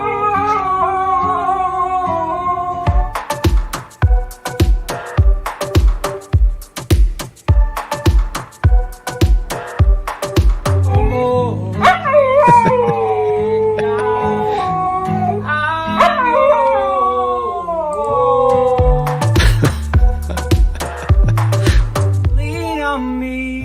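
A dog howls and yips in long, pitch-sliding wails over a played recording, opening with a rapid run of sharp sounds before the sustained melodic howling takes over, loud and close.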